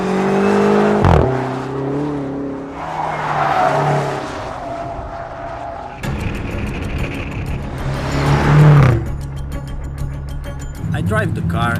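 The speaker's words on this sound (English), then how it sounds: "I drive the car in the racetrack fast, I mean really fast" 2015 BMW X6 M driven hard around a racetrack, engine revving and surging with tire squeal through corners, several bursts of acceleration, while someone talks over the driving.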